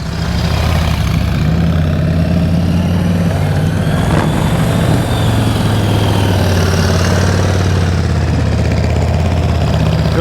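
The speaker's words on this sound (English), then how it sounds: "All right, Dave, bring that pretty motorcycle in here." A motorcycle engine idles and putters steadily during slow-speed riding practice, a loud, continuous low rumble that holds throughout with no voices.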